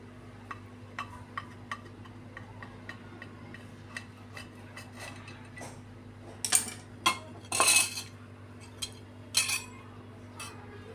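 A knife cuts a slice of fluffy orange cake, giving scattered light ticks at first, then sharper scrapes and clinks of the metal blade against a plate, close and quiet, with no talking.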